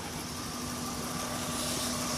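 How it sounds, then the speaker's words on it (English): A car engine with a cylinder 4 misfire idles while warming up, a steady close hum with a low drone and faint irregular roughness, no talking. "I'm warm up the engine right now,"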